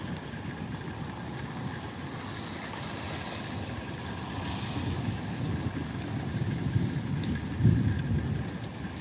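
Heavy rain pours steadily during a thunderstorm, and a deep rumble of thunder swells beneath it toward the end, all without talking.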